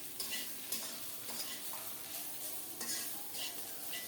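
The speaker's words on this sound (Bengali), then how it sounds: "শুধু নেড়ে চেড়ে একটু লালচে করে ভেজে নেব।" Ingredients for a cabbage bharta are stir-fried in a pan, with a constant sizzle and repeated scrapes and clinks of a utensil against the pan, close and busy with no voices.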